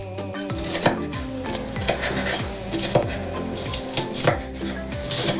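A knife chopping onion finely on a board, rapid steady taps in quick bursts, close and crisp, with no talk.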